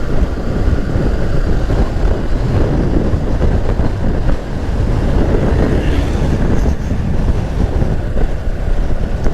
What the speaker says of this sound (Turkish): arkaya bağladığım çöp poşetinin hışırtısı gelmese kulağıma